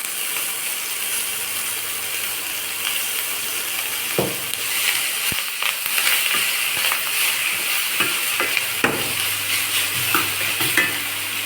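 Manathakkali greens tossed into a hot pan of chana dal, with a steady loud sizzle and scraping stir strokes, sharp clatters and knocks of a spatula against the pan scattered throughout, no voices.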